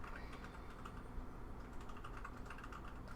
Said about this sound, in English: So you're gonna hear clicking in the background. That's gonna be husband typing.